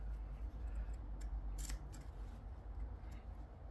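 Scissors trimming the curved fabric seam of a cloche hat, with a few soft, close snips and one sharper cut standing out over a faint steady background hum.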